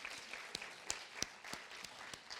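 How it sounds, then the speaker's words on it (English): Audience applause at an evening arts conversation event, a faint, thin patter of scattered hands with a few sharper claps standing out. "Please give them a big round of applause."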